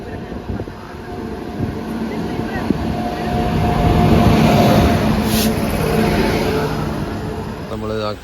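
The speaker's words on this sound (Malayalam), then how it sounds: "നമ്മൾ ട്രെയിൻ ഇതോ വരുന്നു." A local train rumbles into a station in Kerala, a steady low roar that swells and then holds, heard up close with people talking nearby.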